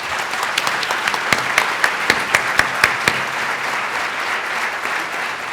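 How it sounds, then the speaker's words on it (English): An audience applauds a panel at the BMA Tech Summit 2011, a dense, steady wash of clapping with a few sharper individual claps standing out near the start before the ovation holds evenly to the end. "Let's give a round of applause for our panel."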